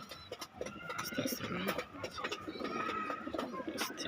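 Racing pigeons coo in soft, repeated, throaty calls close by, with people talking over them.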